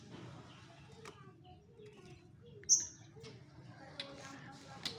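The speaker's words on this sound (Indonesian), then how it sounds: "Tetapi burung ini sudah berkicau ya" A young magpie robin (murai) gives soft scattered chirps and one sharp bright tweet amid faint background chatter and low room noise.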